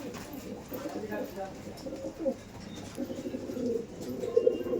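Andhra Kalshira pigeons coo in low, throaty murmurs that run steadily throughout, mixed with people talking nearby at a pigeon sale.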